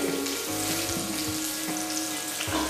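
Garlic and green chilies fry in oil over a low flame, a close continuous sizzle with a faint steady hum beneath and a few soft stirring bumps.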